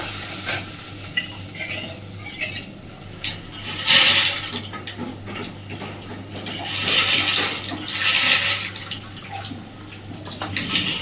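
Water is poured into simmering fish curry masala cooked in oil in a pan, with hissing, bubbling sizzle and stirring swells rising and falling for several seconds.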